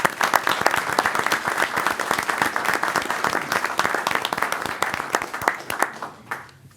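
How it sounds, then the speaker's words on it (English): Village board meeting audience applauding in a dense, steady burst of many hands clapping that carries on for several seconds, then thins out and fades at the end. "Kimberly, why don't you stand up so we can give you a round of applause?"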